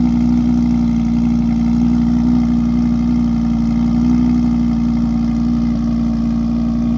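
A Porsche flat-six idling steadily after a cold start with its exhaust valves lowered, a loud, continuous low rumble close by, heard at a car-spotting gathering with no talk over it.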